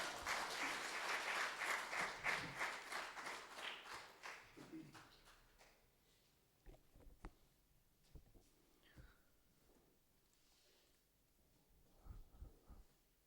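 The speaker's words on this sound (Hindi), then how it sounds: "आप तालियां बजाकर उनको बुलाएं" Audience applause welcomes poet Charanjeet Charan onto the stage at a Hindi poetry gathering, a loud sustained clapping that tapers off over several seconds, followed by quieter scattered sounds and a few soft taps.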